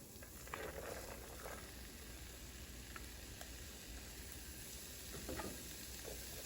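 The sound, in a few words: lentils added to a hot pan of spiced vegetables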